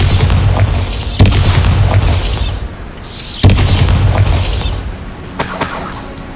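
Bombarda spell blasts in Hogwarts Legacy: loud, booming explosions with crashing debris, several heavy hits spaced a couple of seconds apart, close and dominant with no talk over them.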